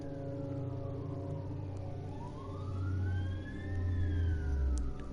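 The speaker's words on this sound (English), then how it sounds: "I'm just gonna let this ambulance pass." An ambulance siren in the video game Tokyo Dark wails in rising and falling sweeps as it passes, growing louder toward the end over a low rumble of traffic.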